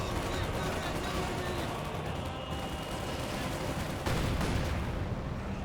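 Heavy, unbroken gunfire and explosive thuds during a Company of Heroes 2 battle as shots land on a machine-gun position, a loud layered fusillade with a sharper burst near the end.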